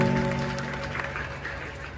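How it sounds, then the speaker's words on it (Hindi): A crowd at a Ganga aarti event in India breaks into applause. A brief tonal sound opens it before fairly faint, dense clapping carries on for about two seconds. "एक बार जोरदार तालियां"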